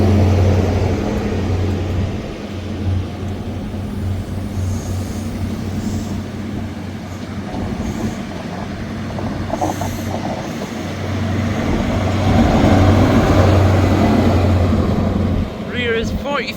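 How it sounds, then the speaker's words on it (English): A ScotRail Glasgow Queen Street to Aberdeen service at Montrose station, with power cars 43133 and 43146, giving a loud, continuous diesel drone and low rumble that holds steady and swells near the end. "1439 Scotrail service from Glasgow Queen Street to Aberdeen."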